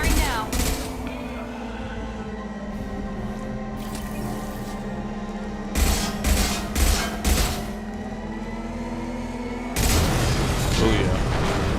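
Weapons fire in the sci-fi game Mass Effect: a sustained hum runs under several short, punchy bursts of shots near the middle, then a heavier blast near the end, with voices talking over it.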